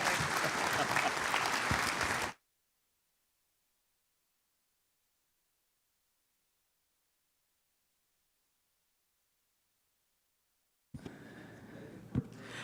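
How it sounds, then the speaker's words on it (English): A conference audience applauds after a keynote fireside chat with the Premier of British Columbia: a short burst of dense clapping that cuts abruptly to silence, then faint clapping and room noise return near the end. "Let's give the Premier a round of applause"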